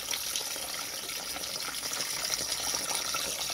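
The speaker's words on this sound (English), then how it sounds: "Get my water over here, let's pour it in." Distilled water pouring steadily into a container to etch an Odessa meteorite, a continuous close splashing gush that runs without pause and with no voices.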